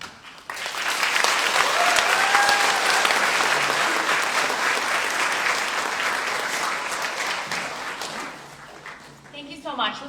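Sustained applause from an audience at a water resources art and poetry celebration, rising quickly and holding steady for several seconds before tapering off, with scattered voices and a brief cheer near the end.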